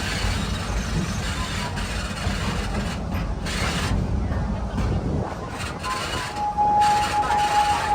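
Rumbling and creaking mechanical noise of a moving ride train, with clicking and grinding as it rolls along.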